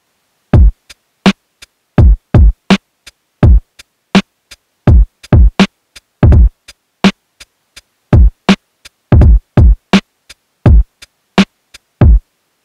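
Four-bar drum sequence from an MPC2000XL sampler: punchy, loud kick and snare hits in a steady rhythmic pattern with short gaps, clean and dry, with no voices over it.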